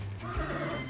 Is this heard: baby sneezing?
no